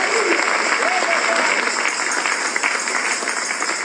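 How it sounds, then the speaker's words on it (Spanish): Dense, steady applause from a church congregation during a sermon, loud and continuous throughout, with no break. "Dale un aplauso al Rey"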